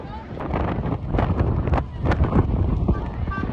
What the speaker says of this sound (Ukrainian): всіх просто вітром зносив